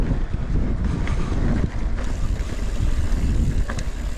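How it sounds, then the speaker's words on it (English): Steady wind buffets the microphone while a mountain bike rolls over the rocky White Line trail in Sedona, a dense continuous low rumble with no voices. "A little windier than before."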